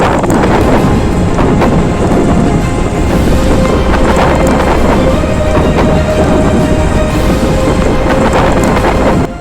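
Loud, relentless wind roars and buffets the microphone throughout a rain and hail storm in Islamabad, a dense rushing storm with no individual hailstones standing out.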